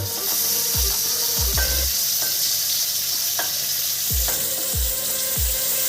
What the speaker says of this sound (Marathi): आता आपण तांबटा घालून घेऊ